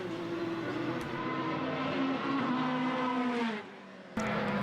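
Formula BOSS race cars at an Irish circuit roar around the track with a loud, sustained engine howl that shifts pitch as they lap slower traffic, dipping briefly before another car blasts in close.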